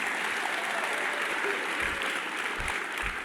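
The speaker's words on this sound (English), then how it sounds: "I think that's worthy of a round of applause." A hall of fame induction audience applauds, a steady wash of many hands clapping at moderate distance, even in level throughout with a few low thumps underneath.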